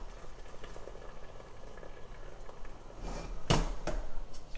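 Cooked pasta lifted from a pot of boiling water, a steady bubbling roil with a louder splash and pour of water near the end, close and with no talk.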